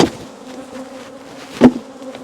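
Queenless bees tapped out of a hive box buzz loudly at close range, with two sharp knocks of the box, one at the start and one near the end, over a steady droning hum.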